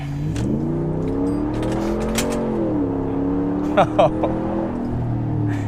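A very large pickup truck engine accelerating on the road, a steady low drone rising and falling in pitch under continuous talk inside the cab, with a couple of brief clicks near the end.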